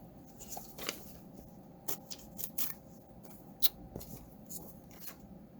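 Scissors snipping through a Christmas card in a quiet room, giving a few short, sharp crisp cuts spaced irregularly over a soft background hiss, close to the microphone.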